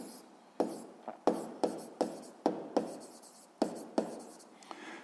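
Pen writing by hand on paper, a close run of short scratchy strokes in an irregular rhythm, quiet and alone with no talk.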